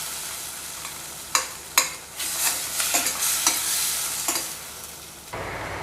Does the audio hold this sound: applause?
no